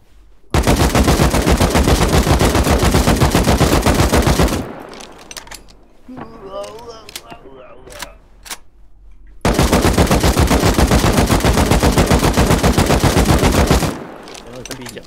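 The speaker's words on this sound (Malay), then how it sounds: "Aku tembak kau." Automatic gunfire in the video game Rust comes in two long, loud, rapid bursts of evenly spaced shots, separated by a quieter stretch of scattered clicks and faint voices.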